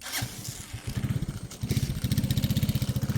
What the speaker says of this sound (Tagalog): inaayos po ni kay Randy yung motor.